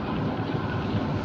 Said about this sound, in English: There is a very violent and strong wind.